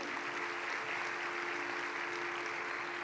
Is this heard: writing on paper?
no